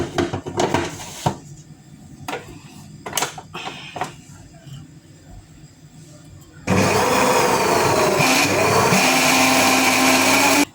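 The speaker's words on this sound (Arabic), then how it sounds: "دابا انا غنديرها باش تعجن في العجانه" An electric dough kneader starts up and runs steadily, a loud, continuous motor whir mixing dough for stuffed msemen, preceded by a few clunks and handling noises.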